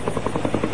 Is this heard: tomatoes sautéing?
no